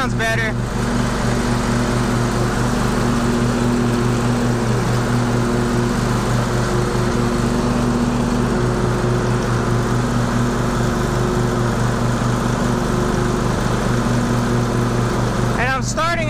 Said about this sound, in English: my mower sounds like it's running weird